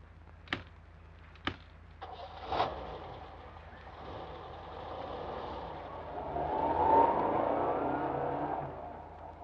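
A car is heard from outside, with a few door-like thumps first and then an engine that revs and pulls away, growing louder before fading, with no talking.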